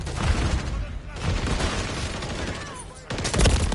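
Rapid gunfire in a video game, with bursts of shots that drop out near the middle and then return loud, mixed with game noise and a man's speech.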